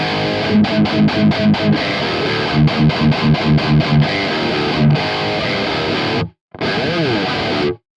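A heavily distorted electric guitar through a Marshall JCM 800 amp plays rhythmic palm-muted chugs and stabs, then sustained crunchy chords, loud and close with brief gaps of silence.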